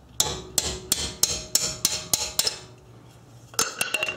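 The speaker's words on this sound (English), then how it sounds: "I'm just using a carpenter's hammer just to make this loose instead of banging up your hands" A carpenter's hammer strikes a brake caliper bolt in a run of sharp, ringing metal taps at a steady pace, pauses, then lands a few more quick blows.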